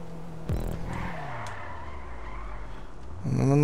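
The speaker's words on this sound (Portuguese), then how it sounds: "Tentar fazer drift aqui." A car drifts in GTA V, its tires skidding in a long squealing slide with engine drone underneath, then a louder screech bursts in near the end.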